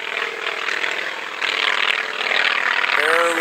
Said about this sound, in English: See the plane.